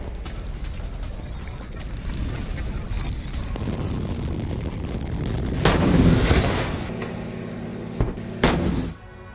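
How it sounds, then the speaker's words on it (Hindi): Gas station explosion and fire in Grozny: a steady roaring rumble builds into a louder blast, followed by sharp cracks and bangs over continuing roar, captured from a distance with wind noise. "गैस स्टेशन में यहां विस्फोट हो गया है।"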